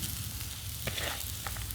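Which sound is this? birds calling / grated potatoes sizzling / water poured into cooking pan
grated potatoes sizzling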